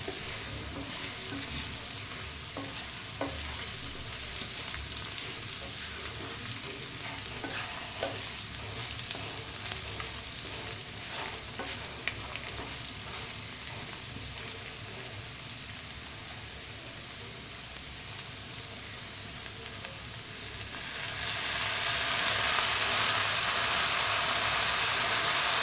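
Slit green chillies fry and get stirred in a pan, a steady close sizzle with scraping and stirring throughout, swelling into a louder hiss near the end.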